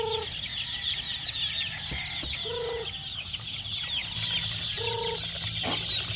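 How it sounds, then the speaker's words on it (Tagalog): A second batch of young chicks cheep and cluck together at a farm, with short repeated calls and higher chirps over a steady background, close by and without talk. "Ayan sila mga sisiw natin na second batch mga kakosa."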